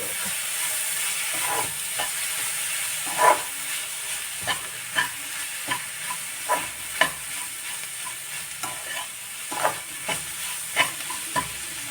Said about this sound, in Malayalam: നമുക്ക് ഇനി കക്കറച്ചി ഇതിനകത്തേക്ക് ഇട്ട് കൊടുക്കാം കേട്ടോ നന്നായിട്ട്